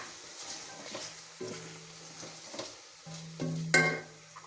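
Chicken frying in a pan as tomatoes are added, soft sizzling interrupted by several scraping stirs and clatters, fairly faint and close, with no talking.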